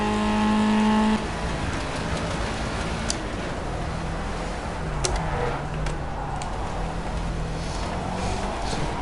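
A Formula A race car in Project CARS driving with a steady engine drone and occasional knocking clunks over it, a brief higher rev tone near the start, heard close and continuous without speech.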